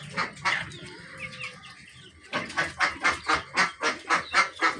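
Domestic chickens and ducks on a rooftop farm call out, first scattered squawks and clucks, then a rapid series of loud, evenly spaced honking quacks repeating in a steady rhythm close by.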